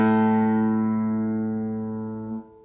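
A single guitar note, A, rings out clearly and sustains, slowly fading over a couple of seconds before being cut off.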